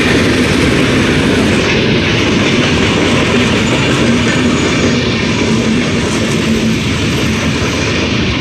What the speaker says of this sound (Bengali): দেখুন এখনই একটা ট্রেন আসতেছে।